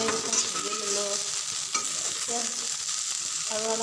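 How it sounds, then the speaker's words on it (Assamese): Okra frying in an uncovered pan while being stirred, a steady close sizzle with scraping stir strokes and brief metallic clinks throughout, no voices. "ঢাকনি গুচাই ভাজি ল'লোঁ"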